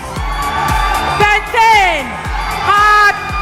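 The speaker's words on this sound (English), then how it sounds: "Let's clap for them." A university gas-industry quiz challenge final, where a crowd whoops and cheers with loud rising shouts over a steady bed of applause, close and energetic, with a few brief louder bursts.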